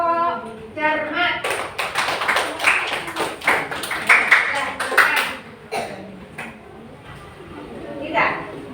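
A classroom group gets applause: a burst of many hands clapping, fairly close and irregular, lasting a few seconds before fading into quieter murmuring, with voices talking before and after.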